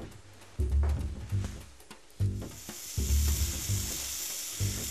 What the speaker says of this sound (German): Die Scheiben in zerdrückten schwarzen Pfefferkörner wenden und in einer beschichteten Pfanne anbraten, bis sie leicht Farbe haben.